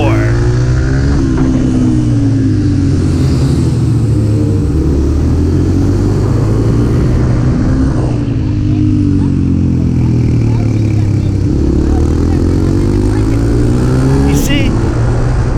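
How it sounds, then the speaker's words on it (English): About thirteen motorcycles riding on a small indoor arena track, with loud, steady engine roar rising and falling as they lap, close and continuous throughout. "It's like we got freaking 13 motorcycles out here on this little track in this arena"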